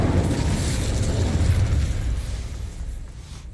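A fire spell cast in Hogwarts Legacy, a loud, sustained whooshing roar of flame that fills the clip and slowly eases off toward the end.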